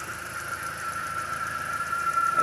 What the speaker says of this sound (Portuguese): Aí o funcionamento do motor, funcionamento perfeito, né, sem nenhum tipo de vibração nem nada.